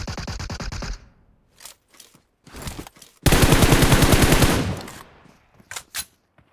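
MK14 rifle fire in a video game, several loud rapid bursts of gunshots at close range, with one long sustained volley in the middle and shorter volleys and single shots around it.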